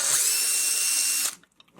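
A drill boring a hole into a plastic frog bubble blower toy, a loud whining spin for just over a second that stops abruptly, followed by faint clicks and handling.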